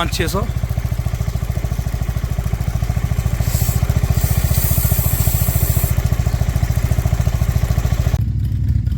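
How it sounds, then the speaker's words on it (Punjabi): A motorcycle engine idles and revs steadily up close on a Spiti Valley road trip, its rapid thumping putter continuous throughout, cutting off abruptly near the end. "ਆਪਣਾ ਮੋਟਰਸਾਈਕਲ ਚੱਲ ਗਿਆ"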